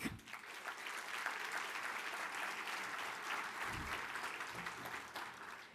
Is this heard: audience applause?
yes